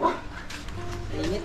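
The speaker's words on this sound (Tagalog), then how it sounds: "ba't galit itong aso ni Kuya" A dog gives a short, agitated bark and whimper nearby, amid people talking.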